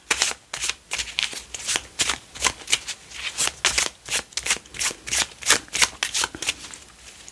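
A deck of playing cards is shuffled close up in a steady run of crisp riffles and slaps. The bursts are loud and rhythmic and keep going for several seconds with no voice over them.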